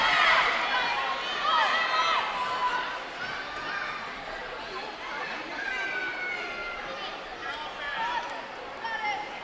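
A packed high school wrestling crowd fills the gym with continuous chatter and babble, with occasional shouts rising above the steady hubbub.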